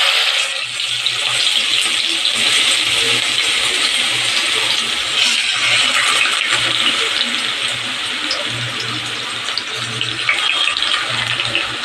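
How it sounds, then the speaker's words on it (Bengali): Chopped onions and green chillies sizzling in hot oil in a pan for a rajma dal, a steady close crackling hiss that runs unbroken throughout, with no voices. "পেঁয়াজটাকে হালকা ফ্রাই করব।"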